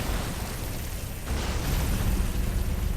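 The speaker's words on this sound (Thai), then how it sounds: "ลงไปละปึ้มระเบิด" A rumbling game explosion blasts over a dense, continuous wash of noise, with a burst swelling after a second and rolling on.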